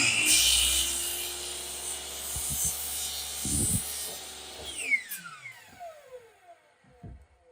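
A mitre saw cuts through crown molding wood, a rasping cut with brief knocks, then the blade's whine winds down and fades as the motor spins to a stop.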